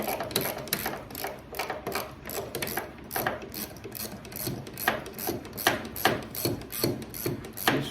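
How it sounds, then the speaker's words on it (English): A ratchet wrench clicks in quick repeated bursts while bolts come off the front end of a Baja buggy being disassembled. The ratcheting is close and moderately quiet, with short pauses between strokes. "wrenching away."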